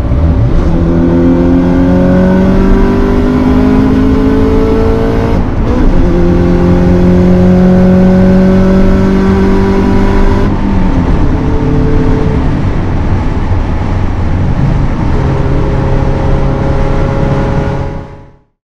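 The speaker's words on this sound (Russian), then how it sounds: "Я вижу, ты тоже устал от рева выхлопа." A 2000 Subaru Impreza WRX STI V-limited GF8 engine roars loudly and steadily with rising and falling revs, its exhaust droning close by for most of the stretch before fading out abruptly at the end.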